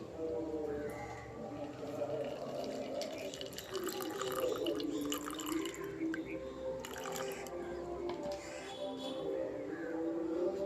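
A Pseudomonas solution mixed in a litre of water is poured over mild chilli seeds, giving a soft, close trickling and dripping sound under a person talking.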